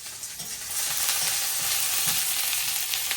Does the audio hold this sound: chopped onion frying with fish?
yes